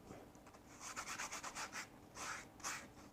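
Short repeated rubbing strokes as residue is polished off an amulet being set in its casing, a rapid series of soft scrubbing pulses with a pause and two more, close and quiet.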